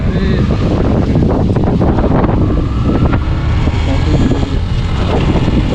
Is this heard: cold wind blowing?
yes